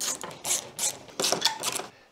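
A ratchet turning 10mm bolts on a MINI Cooper radiator during replacement, several short bursts of close, rapid clicking separated by brief pauses.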